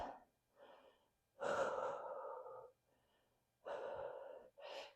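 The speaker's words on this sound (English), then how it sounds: "Some deep breaths" Deep, audible breaths taken while holding a back and biceps workout stretch: several long, close inhales and exhales in a slow rhythm with short quiet gaps between them, and no talking.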